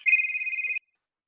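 A telephone gives one short electronic ring, a bright warbling tone that lasts under a second and then cuts off into silence.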